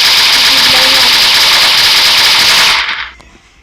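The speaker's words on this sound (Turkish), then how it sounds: "Evet arkadaşlar bu mini uzi" Rapid mini Uzi fire from a guns mod in Minecraft PE, a loud, dense, steady burst of game gunfire lasting about three seconds before cutting off abruptly.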